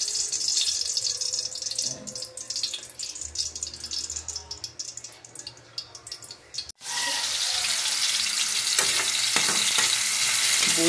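Heated cooking oil sizzles in a pan for pork kaldereta, quiet and crackly at first, then jumping to a loud, steady, close-up fry that continues to the end.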